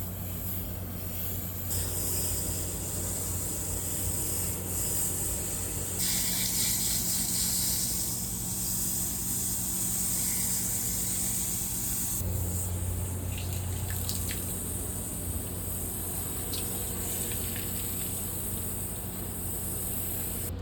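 Steady hissing spray of water washing an HVAC condenser coil from the outside runs throughout, shifting in intensity a few times, with faint dripping and no voices.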